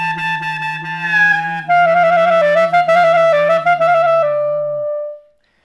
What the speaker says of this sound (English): We are going to be talking about the growl today in playing klezmer.